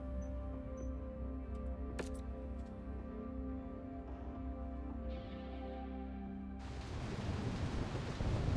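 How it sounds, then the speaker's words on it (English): Rain falls in the mech combat video game Mechwarrior 5: Mercenaries over a low steady engine hum, swelling into a loud dense hiss of downpour partway through, with a sharp crack near the start. "Ooh, I can hear that rain."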